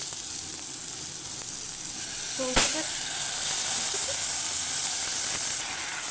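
Steady hiss and sizzle of spices frying in a pan for hilsa fish curry, with a brief clatter as mustard paste goes in; close and even throughout.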